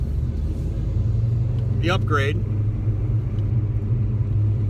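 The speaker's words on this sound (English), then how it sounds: "It's got the Paxton supercharger on it. Really wakes up the engine." A 1991 Mustang GT with a Paxton supercharger running about 6 pounds of boost hums as a low, steady engine rumble from inside the car, while someone speaks briefly over it.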